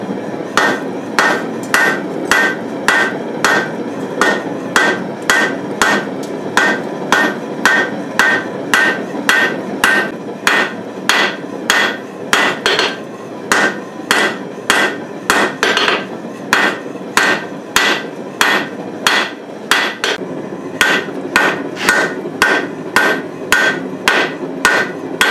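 Steady, evenly spaced hammer blows ring out on hot steel while a claw hammer is forged, dozens of sharp metallic strikes in a regular rhythm, loud and close with no talking.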